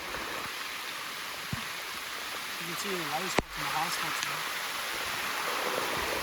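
Steady rain falls across a concrete slab pour site, a broad, even hiss that continues throughout while a person talks over it, with one sharp knock partway through.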